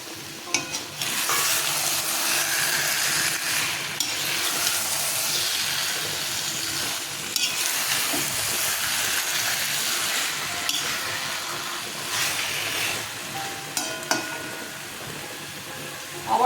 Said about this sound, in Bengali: আমি সমানে নেড়েই যাচ্ছি